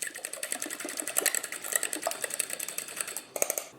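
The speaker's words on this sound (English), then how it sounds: "Now I'm just gonna whisk this together" Egg mixture is whisked briskly in a bowl, a fast, rapid clicking and scraping rhythm of close, sharp metallic taps that runs continuously with a brief pause near the end.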